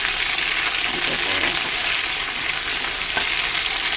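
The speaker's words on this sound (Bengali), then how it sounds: "এই যে দিয়ে দিলাম, ভাজা ভাজা করবো নুন দিয়ে" Pieces of brinjal and pointed gourd fry with salt in a pan, giving a steady, close, full hiss of sizzling oil with faint stirring scrapes, no voices.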